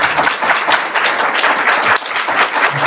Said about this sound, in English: Great, round of applause again,